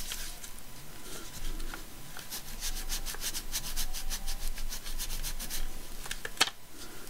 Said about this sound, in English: just keep rubbing to make sure you've got it down on there